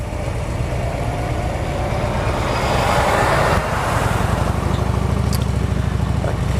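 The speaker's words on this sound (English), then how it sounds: "Hopefully this truck can get around me" A truck and other road traffic rumble from the saddle of a motorcycle on a highway ride, a steady low engine drone with wind roar that shifts midway as vehicles pass close by, no talk.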